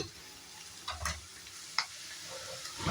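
Browned onions frying in a pan and being stirred, a soft steady sizzle with a couple of brief spoon knocks and scraping sounds.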